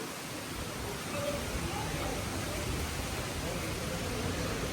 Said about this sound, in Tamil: மழை வந்து சரியாக தான் பொழியுது.